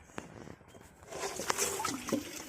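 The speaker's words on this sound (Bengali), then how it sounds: "এইভাবে করে প্রতিদিন দিতে হবে পানি" Water is poured slowly onto potted plants from a small watering can, starting quiet and becoming a trickling, splashing stream in the second half, close and faint with no talking.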